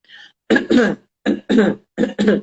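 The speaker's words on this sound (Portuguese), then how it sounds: "comecei a tossir de uma forma que não é um pigarro" A run of harsh, forceful coughs in quick bursts, grouped in pairs, with a faint throat sound before them and no talking.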